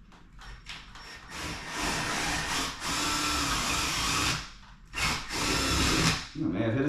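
Power drill driving drywall anchors into sheetrock while mounting a projector screen, heard as several sustained whirring bursts with brief pauses between them, fairly close and loud.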